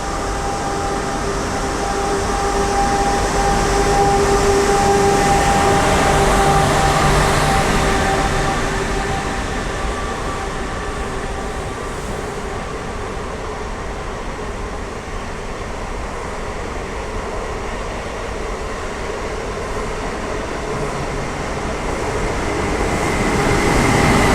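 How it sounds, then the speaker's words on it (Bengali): A local train passes near Burriana on the Spanish coast, a broad rumbling roar of rail traffic that builds, holds steady for a long stretch and then swells again, with faint tonal whines riding over it. "এই যে চলে যাচ্ছে ট্রেনটা"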